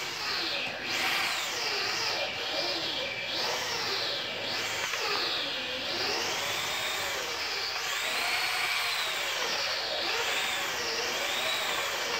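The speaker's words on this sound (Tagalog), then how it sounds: "gagamit tayo ng barena at saka 9mm na bakal para mamix to" A power drill fitted with a 9mm steel rod churns a mix of sealproof, cement and water for bathroom waterproofing. Its motor whines continuously and rises and falls in pitch as it stirs, close and steady throughout.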